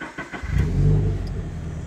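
A Toyota GT86 engine starts up: a brief starter whir, then the engine catches and settles into a loud, steady idle rumble heard close up.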